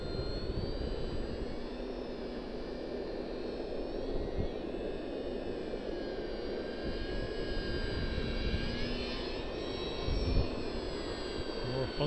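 A Parkzone VisionAire RC model airplane flying low on a windy day, its electric motor giving a continuous high whine that shifts in pitch as it passes, with wind buffeting underneath.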